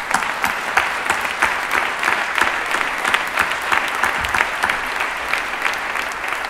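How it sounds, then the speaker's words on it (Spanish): Steady, dense applause fills a campaign rally crowd for Spain's Izquierda Unida at the close of the 2014 European election campaign, with clapping loud and continuous throughout and no voices on top. "Y para todos vosotros un fuerte aplauso."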